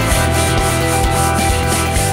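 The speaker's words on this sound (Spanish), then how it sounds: "En esta ocasión vamos a emplear un portalijas para que la tarea sea mucho más cómoda" A wall being sanded by hand with fine-grit sandpaper on a sanding block: close, steady, evenly rhythmic back-and-forth rasping strokes, loud and alone with no speech.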